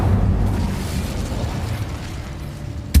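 Fiery Incendio spell blast cast in Hogwarts Legacy, a loud, rumbling burst of flame that roars steadily for a few seconds before a sharp pop at the end.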